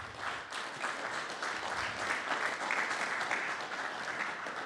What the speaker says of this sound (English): I want to give one last round of applause to Chris for doing a great job as our MC